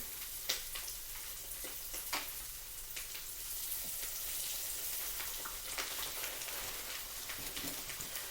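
Cube steak simmering in a low-carb crock-pot gives off a soft, steady sizzling hiss with occasional tiny pops and crackles. It is faint and continuous, and nobody speaks.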